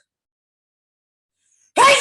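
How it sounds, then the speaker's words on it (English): A single loud, sharp sneeze bursts out close by at the very end, after near silence. "I'm getting ready to sneeze."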